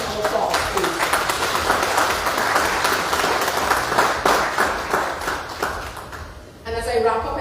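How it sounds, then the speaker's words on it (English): Applause from an audience at an Unsung Hero Awards event in honor of Donald Moore, a dense, sustained clapping that holds steady, then thins and fades toward the end, with a voice returning briefly at the close. "So I think we should just all give Donald Moore a round of applause, please."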